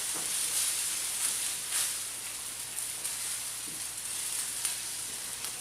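Egg mixture stirred and cooking in a pan, a steady close sizzle and hiss with faint scraping stirs, no voices.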